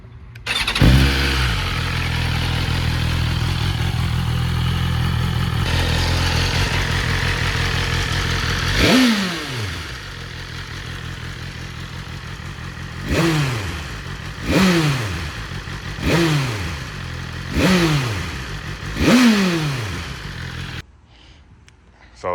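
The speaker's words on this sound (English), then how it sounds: "Let's see what she sounds like off the cold start." A 2023 BMW S1000RR on its stock exhaust with catalytic converter cold-starts with a sharp crank, settles into a high, steady idle, then gives a series of quick, loud throttle blips, each spiking and falling back to idle.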